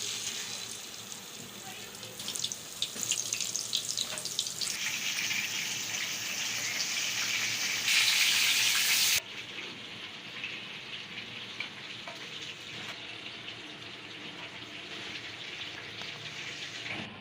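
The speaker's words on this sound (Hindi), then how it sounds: "मैं ना सिर्फ 6 से 7 मिनट जो है ना कबाब फ्राई करूँगी मीडियम फ्लेम पे" Beef mince kebabs frying in a pan over a medium flame, a continuous hissing sizzle that swells louder midway, then drops abruptly to a quieter steady crackle.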